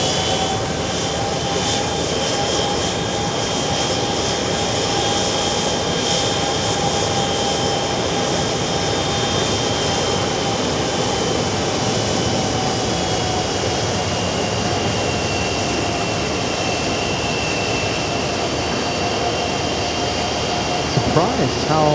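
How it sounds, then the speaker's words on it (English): A JetBlue airliner pushes back at JFK airport on a hot day, engines giving a steady, even whine and roar throughout, with a constant airport hum behind it. "There's a JetBlue pushing back, preventing Virgin Atlantic from going anywhere."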